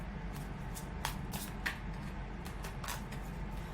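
A deck of tarot cards is shuffled by hand, giving quick papery riffles and soft slaps in short bursts over steady room noise.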